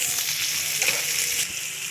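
Sliced onions sauté in a hot pan for American chop suey, a continuous close sizzle and crackle with faint stirring scrapes, loud and alone without talk.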